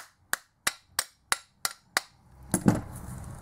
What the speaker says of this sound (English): you give the front bracket a few taps